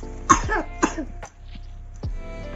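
A baby coughs in a few short, harsh bursts close by, with brief pauses between them.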